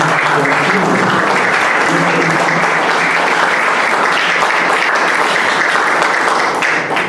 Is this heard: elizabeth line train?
no